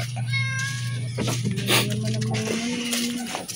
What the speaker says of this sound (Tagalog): Oh, ang ganda ng mga pusa.